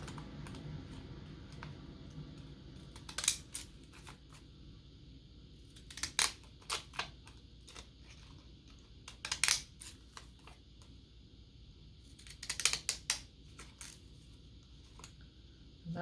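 Scissors snipping around a paper stamp image, short crisp clusters of cuts spaced a few seconds apart against a quiet room.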